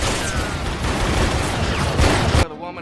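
Gunfire in an action-film shootout, a dense burst of rapid shots and impacts that runs loud and continuous before cutting off abruptly near the end.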